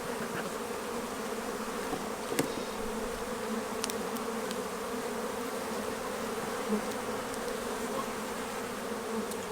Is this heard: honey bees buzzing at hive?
yes